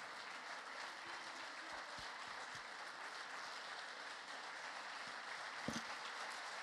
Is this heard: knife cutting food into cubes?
no